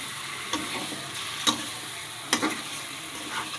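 Chicken meat, freshly washed and cut, fries in a pan for a thin curry, a steady near sizzle with a few sharp stirring clicks and scrapes spaced through it.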